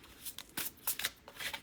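A deck of cards is shuffled for a tarot-style reading, giving quick soft riffling bursts in an uneven rhythm, close and fairly quiet.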